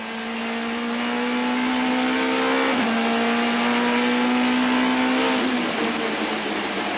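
A 1998 touring car, an Audi, racing at Killarney circuit with its rear sliding over bumps, engine loud and close at high revs with a steady drone and a brief gear change or lift midway.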